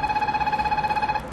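A telephone rings with a steady, warbling electronic tone that pulses rapidly and evenly for over a second, close and fairly loud, then cuts off.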